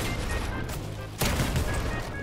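Gunfire in the Fortnite video game: a steady, dense crackle of shots with a sharper, louder burst midway, close and continuous, with no talk.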